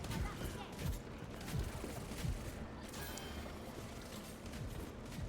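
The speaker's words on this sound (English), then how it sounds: "Cool pulse bomb." Overwatch pulse bomb detonating amid a dense, chaotic esports team fight, with rapid thuds and crackling blasts under continuous game noise and background voices.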